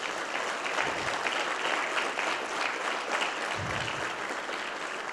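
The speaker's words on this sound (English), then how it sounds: "please give them a round of applause." Audience applause at a health equity summit, a steady, dense wash of clapping from a large crowd that holds evenly for about five seconds without any voices over it.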